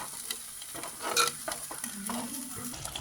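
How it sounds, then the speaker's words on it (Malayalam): A spoon stirs sardine curry in a pan after tamarind water is poured in, giving soft scraping and clinking strokes over a steady low simmer and bubbling, fairly close. "ഒഴിച്ചിട്ട് നമുക്കൊന്ന് സ്പൂണിട്ട് ഇതൊന്ന് ഇളക്കി കൊടുക്കാം."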